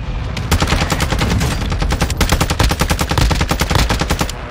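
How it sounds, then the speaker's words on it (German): A Call of Duty MW2 DMZ airstrike pounds down as a loud, continuous barrage of rapid, evenly spaced blasts, dense and booming throughout with no talk over it. "Pass auf, dein Airstrike."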